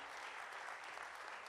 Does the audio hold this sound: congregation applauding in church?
yes